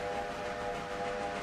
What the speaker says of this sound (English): Who's blowing my whistle?